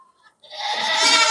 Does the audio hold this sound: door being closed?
no